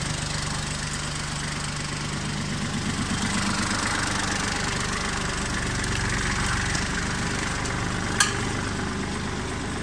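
A Kubota tractor engine idles steadily while reversing to hitch a field roller, a loud continuous diesel chug with a rhythmic knock, close by outdoors, with a brief click near the end.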